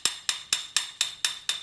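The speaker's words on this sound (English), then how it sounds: "a little tap and drive it in. Best if you use a little bit of piece of wood or a piece of wood and a hammer." A hammer strikes a piece of wood to drive a part into the barrel of a Verney Carron Speedline rifle: seven sharp, evenly spaced taps, close and ringing slightly, with nothing else heard.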